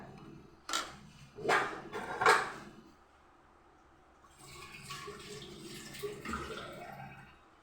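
Water sloshes and pours while a pressure cooker is rinsed for masoor dal curry, with three close splashy bursts followed by a softer running stretch.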